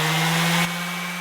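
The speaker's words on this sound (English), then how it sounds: "First up, a palm sander, and it runs." A palm sander runs on a portable ALLPOWERS R600 power station, giving a steady close buzzing hum that drops slightly in level partway through and then holds, with no talk.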